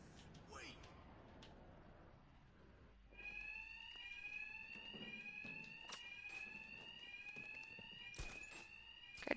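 In the video game Batman: Arkham Knight, a shrill alarm starts ringing about a third of the way in and keeps going, steady and loud. Scattered thuds and impacts land over it, and before it starts there is a stretch of muffled background noise.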